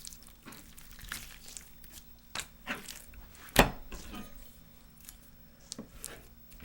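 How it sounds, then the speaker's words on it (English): A knife trims skin and fat from a raw chicken breast during whole-chicken butchery: soft, scattered slicing and scraping noises up close, with one sharper click midway and no talking. "Now remove the skin and trim any excess fat."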